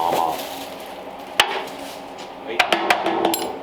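A hammer strikes the pivot arm on a 1928 Ford Model A roadster pickup in a workshop, one sharp metallic whack followed by a quick cluster of three or four lighter taps, close by, with voices talking around the blows.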